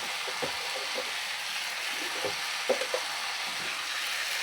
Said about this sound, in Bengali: এরপর কলা মোচাটা দিয়ে দিচ্ছি।